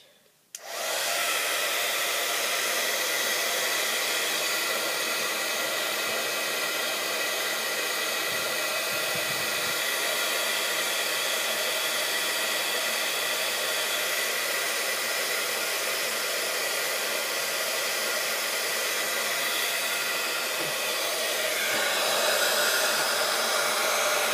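A hair dryer runs loud and close for about twenty seconds, blowing steadily as it dries the side of a handmade decoration piece, and no one speaks.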